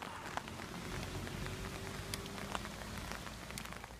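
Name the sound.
rain or hail falling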